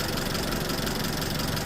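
A Chevrolet Captiva with a naturally aspirated 2.4 petrol engine idles steadily, giving a constant close mechanical hum and ticking with no speech.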